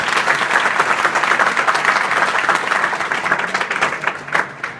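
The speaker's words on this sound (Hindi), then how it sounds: "तो इनका भी जोरदार तालियों से स्वागत करें।" Students at an inter college in Azamgarh, India give a loud, dense round of applause to welcome an advocate, steady clapping from a large crowd lasting several seconds and tapering slightly at the end.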